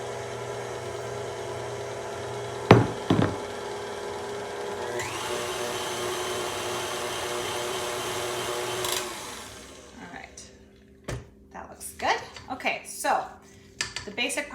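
Dry ingredients go into keto paleo waffle batter with a steady mechanical whirr from an electric mixer, then a few clinks against the bowl, and the motor cuts off into quieter scraping and knocks while someone talks.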